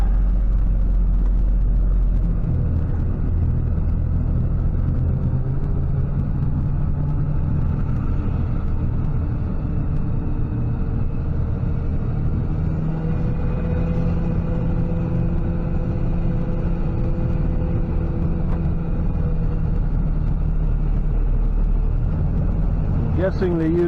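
A tow truck drives slowly around a city block beside a parking lot, its engine a steady, loud low rumble throughout with faint tire and road noise.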